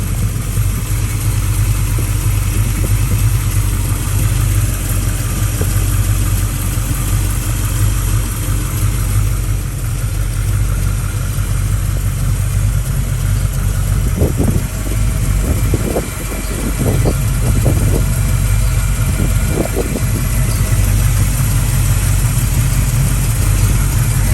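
A 1967 Chevrolet Nova V8 fitted with a Holley 650 carburetor idles with a loud, steady low rumble, close up, with a few short throttle blips around the middle.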